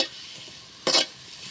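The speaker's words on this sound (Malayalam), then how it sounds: "തേങ്ങ ഒന്ന് വറുക്കണം" Grated coconut being lightly roasted in a pan for a fish curry gives a soft, steady sizzle, broken by one brief, louder scraping stir near the middle.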